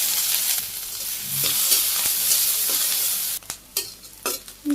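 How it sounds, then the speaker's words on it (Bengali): Chopped onions with cumin and green chilies sizzle loudly in hot oil with a constant hiss, then a spatula stirs and scrapes the pan in short bursts. "পেঁয়াজ ভাজা হয়ে গেছে"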